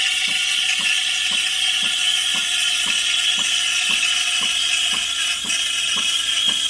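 A Breville espresso machine's steam wand heats milk with a loud, steady, airy hiss that runs the whole time, with faint regular ticking underneath.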